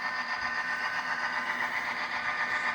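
A Bachmann Pennsylvania F7 model locomotive with DCC sound throttles up slightly, producing a steady, close, droning diesel engine rumble that holds at a constant level.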